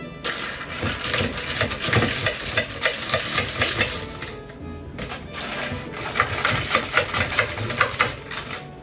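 A spoon or straw stirs a mocktail in a glass, producing dense, continuous rattling and clinking, likely ice knocking, loud and close, with a short lull midway and sharper knocks toward the end.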